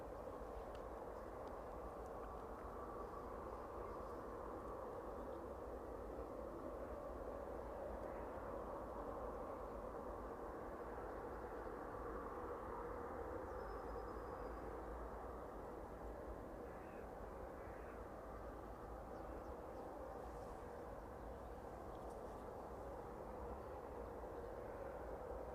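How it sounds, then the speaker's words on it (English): Distant aircraft engine spooling up at East Midlands Airport, a faint, steady droning whine that holds evenly throughout with no voices over it. "Hopefully you can hear that one starting up in the distance."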